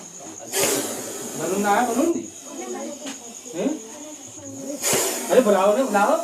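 A big, thick cobra caught in Dibai hisses in two strong, breathy bursts several seconds apart, close and loud, with someone speaking excitedly between and over them.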